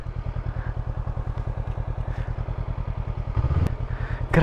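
A motorcycle engine idles steadily and close by in a rhythmic, thumping pulse, parked at a stop on a steep, high concrete mountain road in Lubo, Kibungan, Benguet, with a brief louder clatter near the end.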